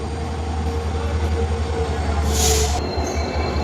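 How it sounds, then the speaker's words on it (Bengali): A train rumbles into Badarpur station with a steady, loud low roar of rolling wagons and a brief high-pitched wheel squeal near the end. "আই গেছে আই গেছে বন্ধুগণ ট্রেন আই গেছে"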